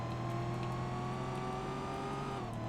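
A Toyota Tundra pickup engine in the Roblox game Greenville hums steadily at cruising revs with a constant whir, loud and close, with no talk.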